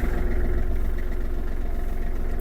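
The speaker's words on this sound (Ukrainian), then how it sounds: "Завився тракторець гарно" A Kubota GL-29 mini tractor engine, just started, runs at a steady low idle with constant rumble and vibration, close and alone with no voices.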